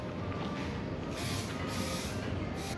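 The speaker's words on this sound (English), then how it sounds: "I'm gonna spray some primer." Aerosol primer sprayed from a can onto bare metal of a burnt go-kart frame under restoration, heard as a steady close hiss with short bursts swelling and fading.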